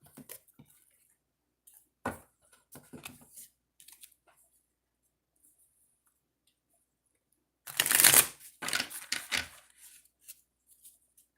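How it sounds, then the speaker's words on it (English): Soft crisp riffling of cards, a few brief flicks early on, then a louder burst of shuffling with quick papery clicks trailing off. "Shuffle these a couple of times."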